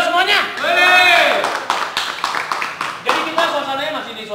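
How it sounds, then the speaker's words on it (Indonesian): A crowd at a Vespa scooter club gathering claps and cheers in a dense, continuous wash while voices shout and talk over it. "Tepuk tangan dulu semuanya."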